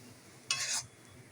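Vegetable fried rice stirred in a pan, a short burst of scraping and rustling lasting under half a second, close and fairly loud against a quiet background.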